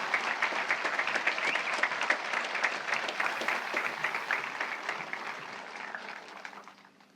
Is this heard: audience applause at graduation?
yes